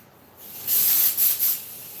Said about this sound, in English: Now we're spraying like nobody's. Carburetor cleaner, man.